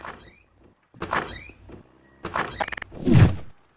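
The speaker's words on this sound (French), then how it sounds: "Il y a des gens qui ont ouvert la porte." A door opens in the Garry's Mod DarkRP game, with a sliding squeal, rattling clicks and a heavy thunk in separate bursts between short silences.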